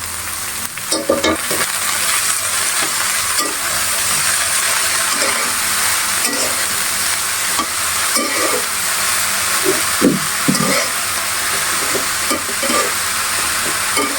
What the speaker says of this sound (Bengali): এখন আমি ডাটার শাকগুলো দিয়ে দিব এতো আমি কুচি কুচি করে কেটে নিয়েছি আর একটু পরিমাণ মতো লবণ দিয়ে দিলাম